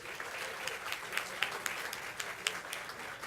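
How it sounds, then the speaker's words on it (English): An audience at an MLK celebration applauds the choir. The clapping is fairly soft and distant, with scattered sharper individual claps poking through a continuous crowd patter. "Let's get a choir round of applause."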